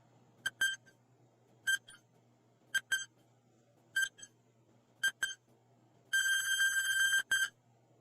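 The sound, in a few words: quiz countdown timer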